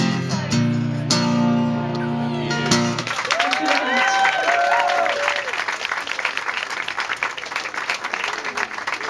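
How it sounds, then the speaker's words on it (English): Audience applause and cheering after a live performance of a song, a steady wash of clapping hands that swells in after the music ends and holds on through the rest. "Another big round of applause there"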